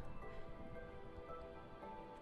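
Steady rain patters down in Minecraft, a soft, even hiss of drops throughout with no voices.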